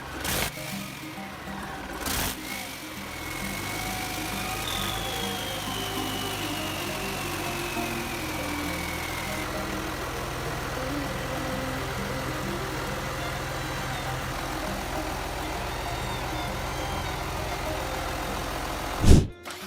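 A big 12-cylinder compression-ignition engine runs steadily with a deep, continuous exhaust rumble and a faint whine, ending with a sharp knock.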